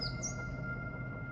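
In a video game, a couple of quick, high bird chirps come right at the start, faint and brief, then fade into a low, quiet ambient hum.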